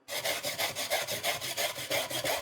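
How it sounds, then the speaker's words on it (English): Fresh coconut is rasped on a grater for a Balinese seaweed salad. Quick, rhythmic scraping strokes repeat about six times a second, close and steady, with no talk. "And now I'm going to grate the coconut."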